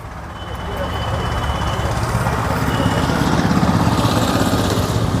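A 1982 Ford 3600 tractor engine chugs steadily and loudly throughout, a continuous rumbling drone with a faint high whine.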